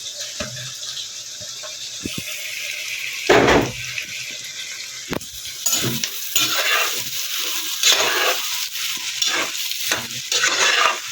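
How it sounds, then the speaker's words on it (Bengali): Onions and garlic fry in a pan with a continuous close sizzle, broken by scraping and clattering stirring strokes and a louder burst early on; nobody speaks. "এটা ভাজা ভাজা পেঁয়াজের কালারটা মজুক"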